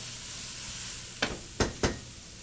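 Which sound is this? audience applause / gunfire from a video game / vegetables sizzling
vegetables sizzling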